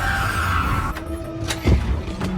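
A car skids as a sheriff's car pulls up in a horror film, a steady tire rumble with a sharper screech and thump rising near the end amid ominous background tones.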